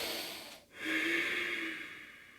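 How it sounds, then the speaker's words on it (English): A single deep breath during chair yoga: a short nasal intake, a brief pause, then a longer audible exhale fading out, close and soft with no talking. "Breathing into the left side rib cage."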